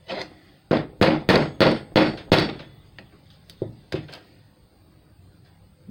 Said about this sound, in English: take a hammer and a screwdriver